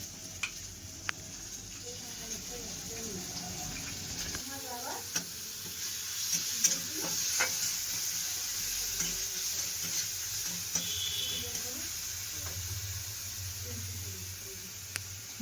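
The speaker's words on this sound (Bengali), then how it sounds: "মশলাটা সুন্দর করে কষে নিচ্ছে" Spice paste frying for a kohlrabi, potato and soybean curry, a quiet steady sizzle with intermittent spoon scrapes and clinks, a voice talking faintly in places.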